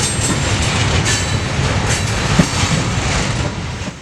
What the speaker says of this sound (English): the SD40-2 and its train disappeared back into the yard